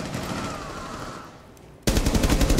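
Gunfire in the tactical shooter game Rainbow Six Siege: a hum of in-game ambience fades, then a loud burst of rapid automatic shots erupts abruptly and continues to the end.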